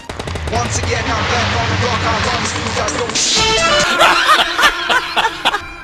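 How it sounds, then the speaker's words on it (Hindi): Loud rapid bursts of PUBG Lite gunfire, sharp repeated shots with crashes, dense and continuous throughout. "पीछे से कोनो गोली चलाने लगता है"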